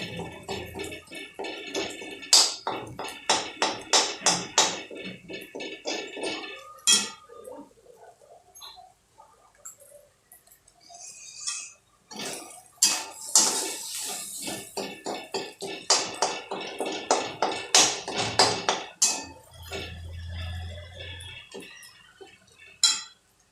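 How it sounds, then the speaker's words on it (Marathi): Boiled potatoes being mashed in a pot for spinach potato paratha, with fast runs of tapping, scraping clicks from a utensil, a quiet pause midway, then more rhythmic knocking and a low rumble near the end. "पूर्ण बटाटे मॅश करायचे"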